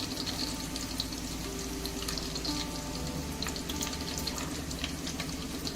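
Two bay leaves dropped into hot oil in a pan for a village-style country chicken curry, giving a steady, fairly quiet sizzle with faint crackles, heard alone without speech.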